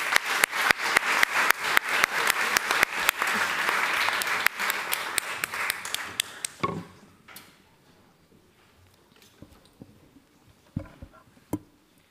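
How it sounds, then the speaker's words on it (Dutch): An audience at a film premiere applauds the filmmakers, with distinct individual claps audible in a steady patter that fades after about six seconds to a quiet room with a few scattered handling knocks. "En een applaus voor hun,"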